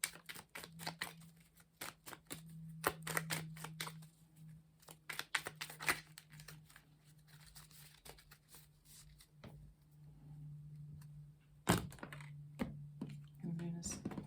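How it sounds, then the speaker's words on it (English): Tarot cards being cut and shuffled produce rapid clustered riffles and soft slaps at close range, in irregular bursts over a low steady hum. "Can I cut the deck, please"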